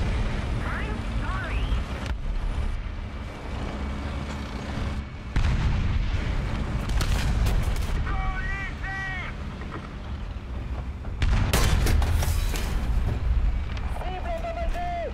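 Tank cannon shots from an AMX-40 French main battle tank in War Thunder, several heavy booming blasts spread across the stretch over constant engine rumble and battle noise, with a voice talking throughout.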